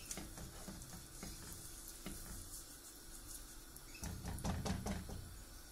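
Butter sizzling in a hot crêpe pan, a soft steady crackle heard close but quiet, with a few light knocks and a louder burst of frying toward the end.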